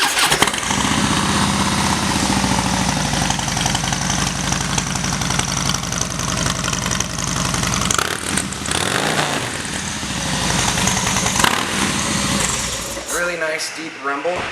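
Harley-Davidson Softail Slim 103 motorcycle engine running at a dealership, a loud continuous deep rumble with uneven pulses and occasional revs, near and steady throughout, with people talking briefly near the end.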